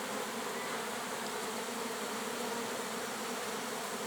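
Honey bees fly around an apiary in a dense, continuous buzzing swarm, steady and fairly faint, with no voices.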